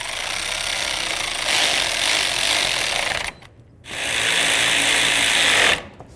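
Power tool driving bolts into a 2005-14 Ford Mustang radiator during replacement, two long steady high-pitched whirring runs split by a short pause, close and loud with no talk.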